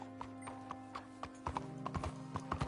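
Horse hooves in Red Dead Redemption 2 clip-clop in a steady, even rhythm, slightly mechanical and looping, over a faint constant hum.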